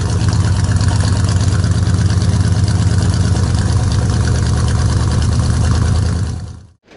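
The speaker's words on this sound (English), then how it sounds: "Got the old Junker 55 idling away here." A 1955 Chevrolet truck engine idles with a steady low rumble and even throb, loud and close, until it cuts off at the end.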